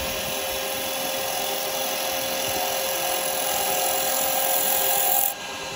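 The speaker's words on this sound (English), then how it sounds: "So I'm just going to shear scrape this, shear cut this." A spindle gouge makes a shear cut on a wood lathe while turning a duck egg cup, giving a steady whirring hiss of fine shavings over the spinning workpiece, close and continuous, that drops off abruptly near the end.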